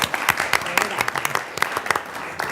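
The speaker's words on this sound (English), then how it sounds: "How about a round of applause for those guys" People at a school board meeting clap in a quick, dense burst of close, crisp applause lasting a couple of seconds. Voices can be heard mixed in with the clapping.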